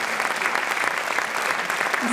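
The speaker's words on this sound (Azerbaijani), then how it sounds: "Vaqif Gərayzadəni ürəkdən alqışlayırıq." Audience at a choir concert claps warmly in a continuous, dense round of applause, loud and close, holding steady for the whole stretch.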